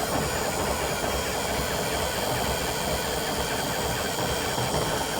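Abandoned tow truck engine cranking as it tries to start, a loud, dense, continuous mechanical churning that holds steady throughout with no talk.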